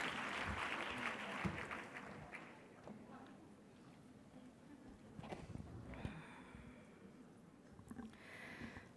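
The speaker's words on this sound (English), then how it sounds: "Please give a big round of applause for Dr. Lawrence." Audience at a university graduation ceremony applauds, clapping strongest at the start and thinning out into scattered claps and shuffling, heard at a distance.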